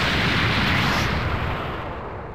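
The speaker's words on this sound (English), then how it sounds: "I felt the explosion." A huge rumbling blast from the Dragon Block C mod in Minecraft, a loud, sustained roar of noise that fills the space and slowly fades toward the end.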